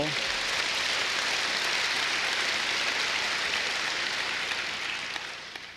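An audience at a Korean world mission conference claps in a dense, steady wash of applause that holds throughout and fades slightly at the end.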